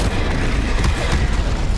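Confringo explosion spell blasting in Hogwarts Legacy, a loud, dense rumbling boom that fills the whole short moment with no pauses.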